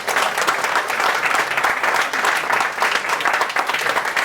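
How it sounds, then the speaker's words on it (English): Audience applause at a press event for Chinese opera at Lincoln Center: dense, even clapping from a crowd, sustained and lively for several seconds without a break. "let's give another applause"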